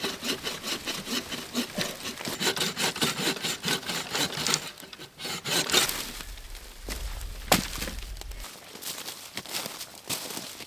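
A hand saw cuts wood for a simple bush shelter in the rain, with rapid rhythmic rasping strokes close by, then a pause and a few scattered scrapes and knocks.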